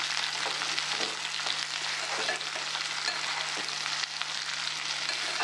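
Partly boiled cluster beans frying uncovered in a pan for a tangy curry, a continuous bright sizzle with occasional crackles and stirring scrapes, close and steady without talk.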